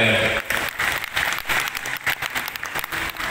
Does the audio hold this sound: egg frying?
no